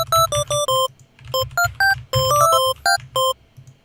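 Glassy Serum synth pluck with key tracking off, one fixed tone repeated in a quick bright rhythmic pattern of short plucks over a low pulsing bass, no talking.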